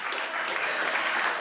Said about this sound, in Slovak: Pojďte zatleskat, to je hezká.